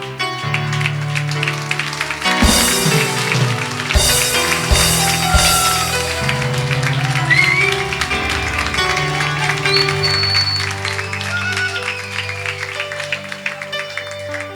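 Audience applause at a church 10th-anniversary celebration, steady clapping running throughout the clip with music playing loudly over and under it.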